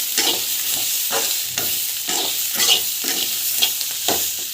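Dried red chillies sauté in a hot pan, sizzling steadily while a spoon scrapes and stirs in repeated bursts. The sound is close and fairly loud, and no one speaks.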